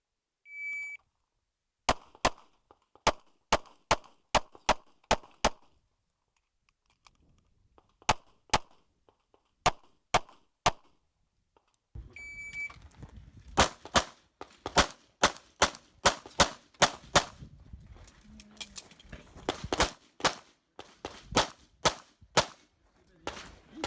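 Pistol shots ring out during an IPSC competition stage run, a start beep followed by rapid bursts of sharp, loud reports with pauses for movement and a reload, then fast strings of fire to the end.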